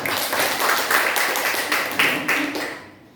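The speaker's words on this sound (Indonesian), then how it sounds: "Tepuk tangan untuk kita semua." An audience claps together at an afternoon school teachers' gathering, a dense burst of applause with rhythmic accents that fades out near the end, heard alone without speech.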